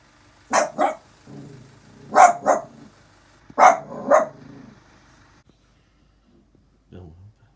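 A dog barks in three quick double bursts as a truck pulls up, fairly close and loud, with low rumbling between the barks and a brief faint sound near the end.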